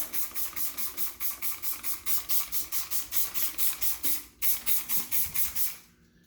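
Rapid, rhythmic bursts of a shower cleaner spray bottle hissing over and over in a shower, about two dozen quick squirts close by before it stops.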